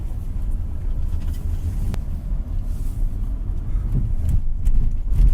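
A 2026 Lexus RX500h F Sport accelerates in sport mode, heard from inside as a steady, fairly loud low cabin rumble with road and wind noise and a few faint knocks, without engine roar or voices.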